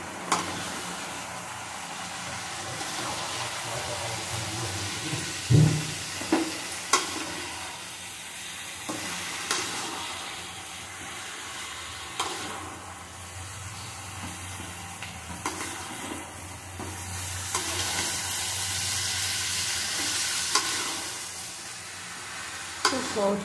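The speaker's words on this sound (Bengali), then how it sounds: "বাঁধাকপিটা একটু নাড়িয়ে নেব। সব কিছু মিশিয়ে নেব" Cabbage being stirred in a cooking pan for a Bengali vegetarian cabbage dish, with steady sizzling and frying hiss and occasional scraping stirs and clanks throughout.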